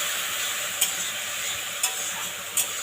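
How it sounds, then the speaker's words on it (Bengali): Spice paste stir-fried in a pan for a rohu fish and okra curry, with a soft steady sizzle and three distinct scrapes of a spoon against the pan at regular intervals. "এই যে মশলাটা কষছি"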